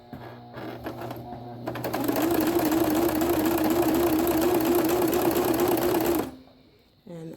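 A sewing machine stitches boning onto fabric, starting slowly with a few stitches and then running at a steady, even whir for several seconds before stopping abruptly, followed by a faint shuffle.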